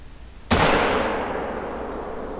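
A single loud rifle shot in theHunter: Call of the Wild during goose hunting, a sharp crack followed by a long rolling echo that fades slowly over about two seconds.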